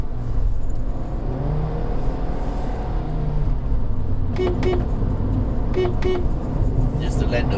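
A Kia Picanto 1.2 GT Line climbing a foggy hill road sounds two short double toots of its horn to warn a bus, over a steady engine drone and road noise.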